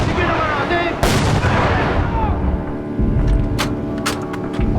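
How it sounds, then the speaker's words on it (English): Ottoman heavy artillery guns open fire on the Anzac landing site at Gallipoli in a reenacted battle scene, with a sharp booming blast followed by rumbling echoes and several further crisp reports near the end, loud and close. "Major Halis orders his heavy guns to open fire on the Anzac landing site"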